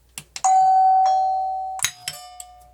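A mechanical doorbell chime triggered by a Wyze Doorbell V2 rings twice in a near ding-dong pattern, each bright tone ringing out and slowly fading, with small clicks and taps around it.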